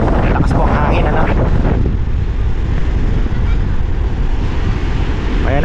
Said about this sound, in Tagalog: lakas po ang hangin